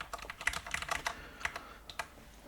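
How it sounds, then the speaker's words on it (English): Quick, light clicks of arrow keys tapped on a computer keyboard, a dozen or so soft taps in an irregular rhythm at close range, with no voices. "You can use the arrow keys on the keyboard"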